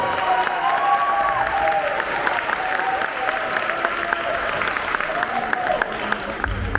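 Warm crowd applause at a festive evening during the Lourdes pilgrimage, steady dense clapping throughout with faint voices mixed in.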